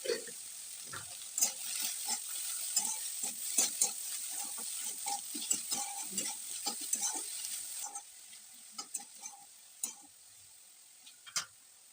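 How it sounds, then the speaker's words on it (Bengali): Potatoes and drumstick flowers fry gently over low heat, a soft, quiet sizzle broken by frequent stirring clicks and scrapes of a spatula against the pan, close by and without voices. "কম আঁচে আলু এবং সজনে ফুলটাকে বেশ ভালোভাবে ভেজে নিতে হবে"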